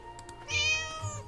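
An in-game cat in Neverwinter Nights 2 lets out a single drawn-out meow, fairly close and clear, over a low ambient game soundscape with no talking.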